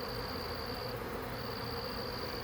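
Honey bees in a swarm near a hive box and a tree limb, giving a continuous close buzzing hum with a thin high whine running through it, no talking.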